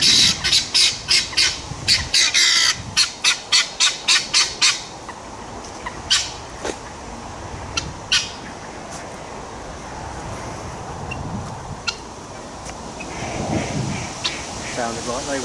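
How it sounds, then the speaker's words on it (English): Loud, harsh squawks from guinea fowl burst out in a rapid run of a dozen or so calls, then a few scattered calls follow in open air with a light breeze. "Is that the guinea fowl?"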